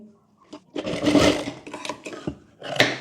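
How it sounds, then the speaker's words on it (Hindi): A sewing machine stitches a sleeveless princess-cut blouse in loud, close bursts of whirring, running about two seconds, pausing briefly, then starting again. "यहाँ पर सिलाई कर लेंगे"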